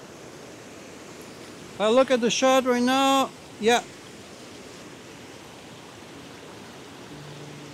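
Waterfall in a natural landscape with trees, a steady broadband rushing hiss running the whole time, while someone speaks briefly over it in the middle.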